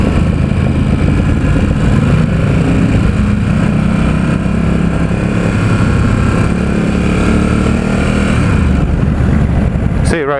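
A 2017 Ducati Supersport S engine hums steadily while riding in San Francisco, loud and constant with wind rush throughout, and a person talks over it.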